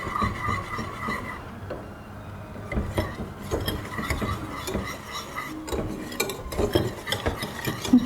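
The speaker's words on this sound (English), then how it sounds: "So now you're going to keep on whisking it till it's thick." A whisk stirs white sauce in a pot for tomato pasta, making quick scraping strokes and light metallic clinks in an irregular rhythm, close up with no talking.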